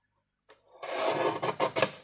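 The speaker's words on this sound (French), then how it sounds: "je vais découper tout simplement aux quatre coins" Small craft knife slicing through card at the corners of a Christmas pop-up card, a close, dry scraping rasp in short repeated strokes after a brief initial scratch.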